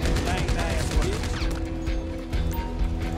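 Gunfire in GTA 5 gameplay shooting zombies: rapid bursts of close, loud shots with a ringing, echoing tail, followed by a brief lull and more shots.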